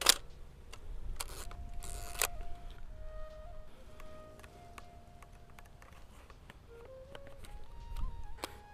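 A few sharp mechanical clicks and a longer whirring burst from a Hasselblad 2000FCW medium format camera shutter, followed by quieter faint tones and ticks in a still room.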